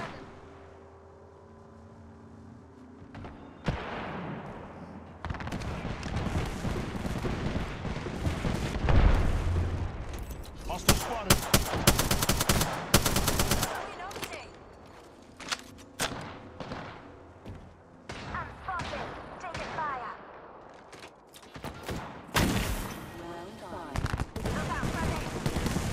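Apex Legends battle with bursts of gunfire: rapid automatic volleys and single loud shots come in irregular clusters, some booming impacts, and spoken callouts between and over the firing.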